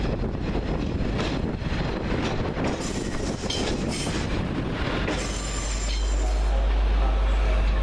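Northern Rail train pulling into Carlisle station to terminate, a loud continuous rumble of wheels with squealing and clattering on the rails, plus wind buffeting the microphone.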